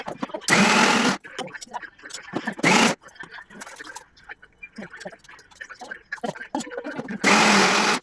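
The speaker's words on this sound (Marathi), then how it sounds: "ह्यामध्ये आता आपण उडीद डाळ बारीक" A mixer grinder grinds urad dal in three short, loud bursts of motor whir, separated by stretches of a person talking at close range.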